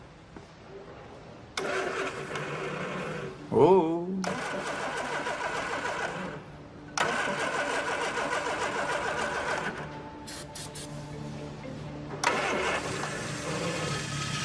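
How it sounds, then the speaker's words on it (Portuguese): An old Oldsmobile engine cranks, catches and settles into a steady running idle, loud and close, with pauses where it cuts out before restarting; a brief exclamation is heard at one point. "Surpreendentemente, o motor pegou e ficou funcionando."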